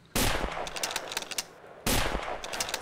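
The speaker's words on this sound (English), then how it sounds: "Please stop shooting me, sir." Two loud, sharp rifle shots from a scoped Mosin-Nagant M91/30 in the video game Garry's Mod, about two seconds apart, each followed by a ringing metallic tail and small clinks.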